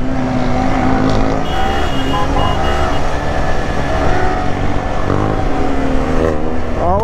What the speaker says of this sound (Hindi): गाड़ी पटाखे छोड़ रही है ये वाली